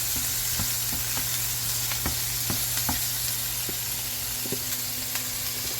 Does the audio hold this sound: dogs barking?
no